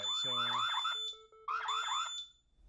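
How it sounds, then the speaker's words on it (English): A 2GIG Edge security system panel alarm sounds in two repeated bursts of warbling, siren-like tones with a steady high beep, loud and insistent, briefly pausing between them. "So that was the alarm."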